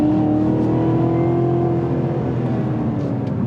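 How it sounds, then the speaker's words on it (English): A 2019 Cadillac CTS-V in track mode accelerates hard, its exhaust holding a loud, steady, rising drone close by with no talk over it. "I hope you got some of that exhaust noise too"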